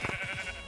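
A short bleat from a Minecraft sheep, a wavering nasal call repeated in quick pulses, heard up close and fairly quiet with nothing else around it.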